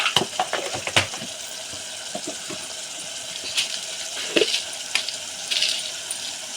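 Water is poured into a cooking pot holding mutton and raw mango pieces, with close splashing and scattered clinks and knocks against the vessel, uneven and moderately loud, no talking.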